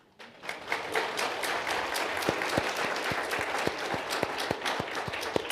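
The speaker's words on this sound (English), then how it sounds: "Absolutely worth a round of applause" Applause at a community event on violence prevention, a smaller audience clapping at moderate loudness, with a few distinct sharp claps standing out in a regular rhythm over the general patter.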